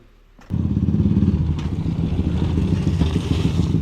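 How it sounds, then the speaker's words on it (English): A dirt bike on off-road trails kicks over and catches, its engine settling into a loud, rough, close idle with clattering mechanical thumps throughout. "I can start it with the kicker, and then if I want to get rolling, I'll drop it into gear"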